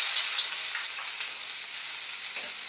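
Garlic sautés in hot oil in a wok for pancit habhab, a loud, dense and continuous hissing sizzle with no talking.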